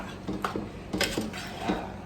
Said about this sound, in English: I'm stirring in these lovingly chopped